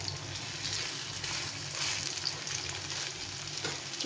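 Potato pieces frying in oil give a steady, close crackling sizzle that holds at an even level throughout, with no talking.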